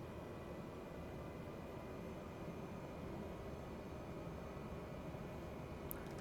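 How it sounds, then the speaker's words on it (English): A Cessna Caravan's turboprop engine runs up steadily in Microsoft Flight Simulator 2020, a constant broadband roar with a faint high whine, unchanging throughout and with no talk. "Right, engines on. Let's increase the throttle to around 750 TRG."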